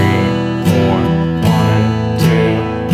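Acoustic guitar strummed in steady timing, switching back and forth between chords every beat or so, loud and close with clear rhythmic strokes and no talking.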